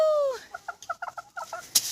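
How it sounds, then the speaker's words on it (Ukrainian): A young rooster clucks outdoors in a short series of soft, evenly spaced clucks following a brief drawn-out call, near and fairly quiet. "Півничок. Привіт. А ну давай закукурікай."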